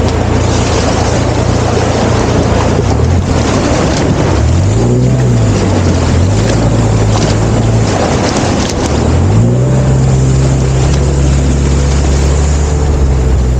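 A vehicle drives through a shallow water crossing on the rough mountain road near Noori Top, with a loud, steady engine drone that rises and falls in pitch as it works through the water, amid wind and splashing.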